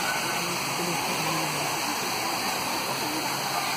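A small waterfall in Queensland pours in a steady, dense rush of white water, constant and fairly loud throughout with no pauses.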